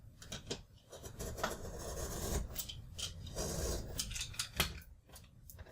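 Scissors or a blade trimming the edge of an upcycled journal cover with fabric binding, giving rasping, scraping cuts in uneven strokes, close and fairly loud, with no speech.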